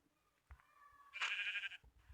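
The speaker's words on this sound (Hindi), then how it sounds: "ये कैसी बकरी थी, ये तो एक ही बार मर गई मेरी बेचारी बकरी" Goat bleating in the Minecraft video game, a wavering nasal bleat preceded by a faint thin cry and soft clicks, heard fairly quietly without talk.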